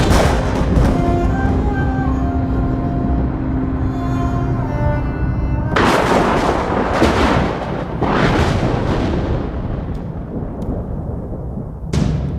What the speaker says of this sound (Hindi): मार दी सारी गोलियां उसकी छाती में।